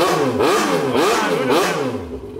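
A Yamaha XJ6 motorcycle engine revs hard in three quick bursts, each climbing and falling back, loud and close with no talking.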